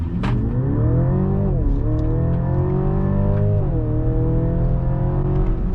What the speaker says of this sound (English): So now we will try and test the acceleration.